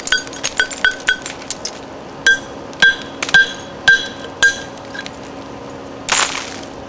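Flint knapping with a percussor raking flakes off the edge of a flat stone slab: a dozen sharp, ringing clinks in uneven rhythm, close and clear, then a brief scraping rasp near the end.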